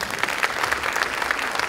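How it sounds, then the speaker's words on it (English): Dense audience applause at a business conference gathering, steady and continuous, with many hands clapping close together at an even loudness throughout. "Give him a round of applause."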